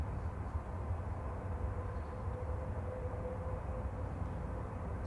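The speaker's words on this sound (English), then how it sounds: "I heard that Ryanair's crossing." Ryanair airliner at Manchester Airport, a steady, continuous low rumble and roar of jet engines at a distance, with a faint tonal whine rising through the middle and no talk.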